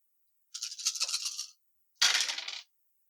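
A handful of ten dice rattles and clatters across a tabletop in two bursts, first a longer shaking roll, then a shorter sharper tumble, close and crisp in silence.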